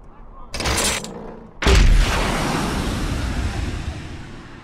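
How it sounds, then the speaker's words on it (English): Mortar fire in a RISK Factions video game training scene: a loud launch thump, then a heavy boom whose rumbling blast decays over several seconds, with no talk. "All right, mortar training. Turn those targets to tapioca."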